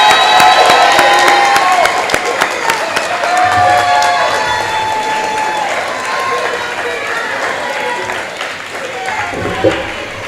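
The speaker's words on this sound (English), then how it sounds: "A round of applause." An audience claps and cheers for newly promoted 6th graders at a school promotion ceremony, a loud burst of mixed clapping and shouts that gradually thins out, with voices calling out over it.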